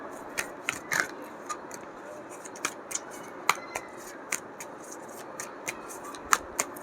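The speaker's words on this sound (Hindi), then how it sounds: "कार्ड शफल करते हैं," Tarot cards being shuffled by hand: a steady run of soft, crisp flicks and taps, some sharper than others, heard close up against low background noise.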